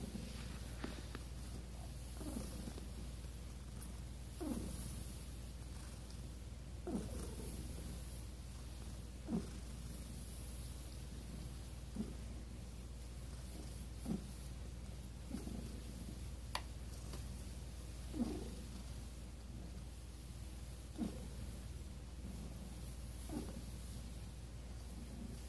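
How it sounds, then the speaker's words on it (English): Soft, low purring from Milo, a sick cat, a continuous close rumble broken by occasional faint clicks and rustles, with no talking over it. "I think that kind of purring is different since he's been sick."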